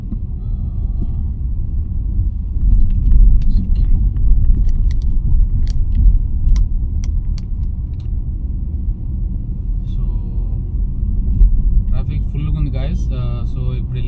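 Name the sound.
heavy road traffic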